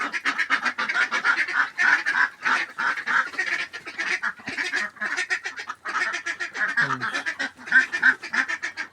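A flock of white farmyard ducks, a big duck among them, keeps up a loud, busy chorus of overlapping quacks and honking calls close at hand, rapid and continuous with only brief pauses.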